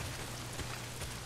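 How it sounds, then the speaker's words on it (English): Heavy rain pours down in the video game Days Gone, a dense, steady hiss of drops on surfaces with no voices over it. "Well, not if it's pissing down rain."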